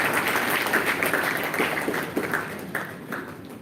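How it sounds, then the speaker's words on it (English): A short round of applause for guest Mr. Peter Cook at a climate change event, with moderate clapping that is steady at first and then gradually thins out. "So please give a round of applause to Mr. Cook"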